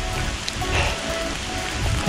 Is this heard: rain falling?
yes